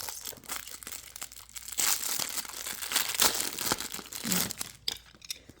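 Plastic packaging around a refrigerator lock is crinkled and torn open by hand, close, irregular rustling and crackling in bursts over several seconds.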